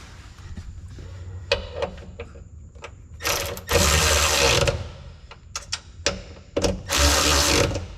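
A ratchet wrench is worked on the carrier bearing bolts of a 1960 Chevy Impala driveshaft, giving rapid ratcheting clicks close by in several separate bursts with brief pauses, and no one speaks.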